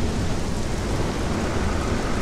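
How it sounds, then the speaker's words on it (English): Steady, dense rainfall in the video game The Legend of Zelda: Skyward Sword HD, hissing continuously with a low rumbling undertone like distant thunder, loud and even throughout. "Oh, it's raining."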